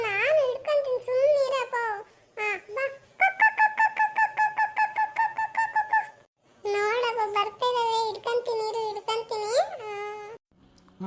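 Cartoonish chickens cluck and squawk loudly in high, bouncy bursts, with a run of quick repeated clucks in the middle and brief pauses between.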